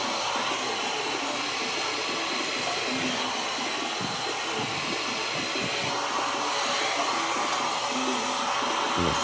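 A hair dryer blows continuously and loudly while hair is being blow-dried, a steady broadband roar with slight shifts in tone as it moves.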